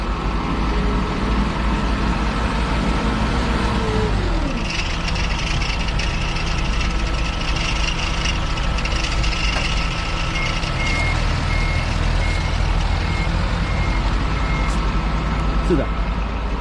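A truck loading steel drums of bitumen for shipment to a port runs with a steady engine rumble while a loud, evenly repeating reversing beeper sounds, with background voices throughout.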